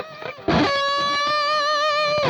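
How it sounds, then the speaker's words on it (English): Electric guitar through a Boss GP-50 Marshall-style rock preset with delay and reverb, a bright distorted sustained chord ringing loudly after a short pick attack, with no talk. "So this is the pure rock sound from the Marshall."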